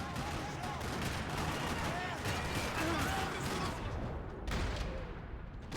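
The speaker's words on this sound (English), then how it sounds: "Another parking lot rattling with gunfire." Dense, continuous bursts of gunfire rattle throughout in a parking lot in the game Max Payne 3, with rapid automatic shots layered over a busy game soundscape and a few heavier booms near the end.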